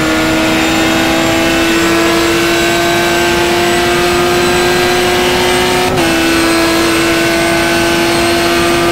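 A race car engine in the GTR2 FIA GT racing game screams at high speed near 170 mph, a loud, steady, tonal drone held from start to end, with one brief dip and recovery partway through like a gear change.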